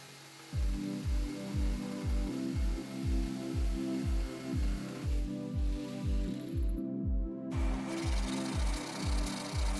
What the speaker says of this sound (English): I do this by angling my jigsaw blade and then cutting a slow, wavy path down the edge of the board